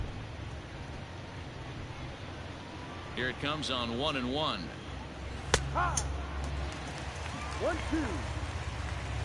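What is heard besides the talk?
heavy rain falling at a baseball game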